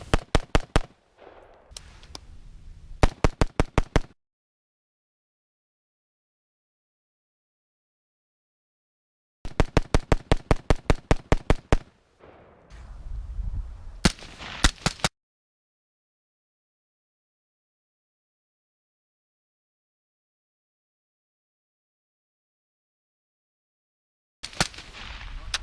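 Rifle gunfire from an Agency Arms direct-impingement rifle shot with a flash hider, a pyro device, then a Dead Air Sandman S suppressor: three groups of rapid, sharp reports separated by silence, the last burst brief.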